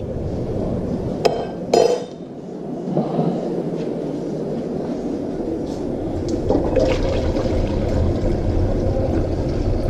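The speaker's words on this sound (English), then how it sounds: "I didn't shake it, so I'm gonna go ahead and stir it a little bit." Homemade kombucha being stirred in a half-gallon glass jar, a couple of sharp clinks early on followed by continuous liquid swishing and sloshing that grows slightly louder toward the end.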